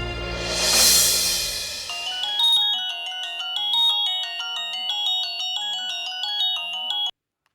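A phone ringtone plays a bright repeating electronic melody for several seconds after a brief rushing swell, then cuts off abruptly; no one speaks.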